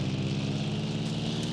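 A helicopter in the video game DayZ Epoch gives off a continuous low, droning engine hum with a steady whir, moderately loud and unchanging over a brief stretch.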